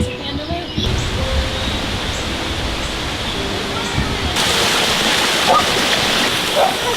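Water running steadily through a tunnel, a constant broad rushing wash close by that swells slightly louder partway through, with voices talking faintly over it.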